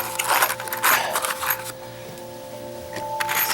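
A plastic container of 3-inch coarse-thread drywall screws being worked open, with close rattling, clicking and plastic handling noises in short bursts, then a quieter pause and more rustling at the end.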